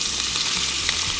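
Bacon and eggs sizzling in a pan for a camp breakfast at Big Bend National Park, a steady close crackle of hot fat with small pops, heard alone.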